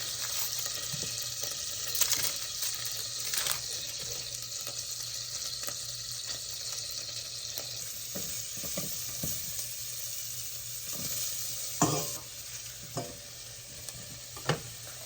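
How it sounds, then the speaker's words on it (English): Butter melting and sizzling in a pan as green chili cooking begins: a steady broadband sizzle with occasional clinks and stirring knocks, fairly close and continuous, with no talk. "I'm going to take a little bit of butter and I'm going to start it melting"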